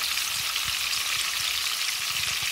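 Fish frying in a pan, an even close sizzle with soft irregular low spatters and pops underneath, steady throughout and free of speech.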